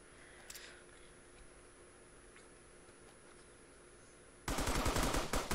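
Gunfire from a battle royale video game shootout: a brief burst near the start, then a loud, dense rattle of rapid shots bursting in for the final second, with no talking.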